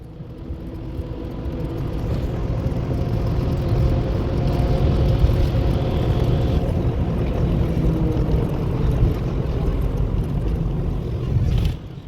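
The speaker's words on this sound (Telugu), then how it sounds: "మేము విఐపి బస్సు ఎక్కి మేము కొండపైకి వెళ్ళడం జరుగుతుంది." A VIP pilgrim bus climbing a hill road, its engine droning steadily and loudly with a low rumble that holds throughout, ending with a brief clunk.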